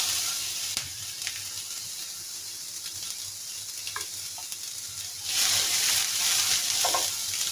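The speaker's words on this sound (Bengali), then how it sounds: "তো পেঁয়াজটাকেও আমি ভেজে নেব।" Onions fry in hot oil in a pan, a steady crackling sizzle that swells louder partway through, with occasional stirring scrapes and no voices.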